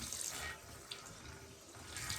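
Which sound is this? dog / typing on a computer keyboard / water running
water running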